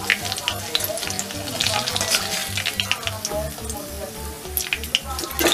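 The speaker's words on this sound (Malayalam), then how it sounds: "ഞാൻ ബാക്കിയുള്ളത് എല്ലാം ഒന്ന് വറുത്ത് കോരിയിട്ട് കാണിക്കാം" Jackfruit pieces deep frying in hot oil sizzle and bubble continuously, with a steady crackling texture and occasional stirring clinks, close and moderately loud throughout.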